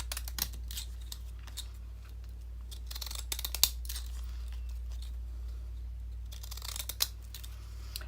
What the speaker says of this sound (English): I just use these scissors to cut out the coffee dyed part of the paper